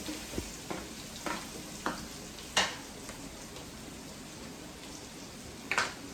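Sliced potatoes fry with onions in a pan, giving a steady soft sizzle broken by occasional scraping stirs and light utensil clicks against the pan.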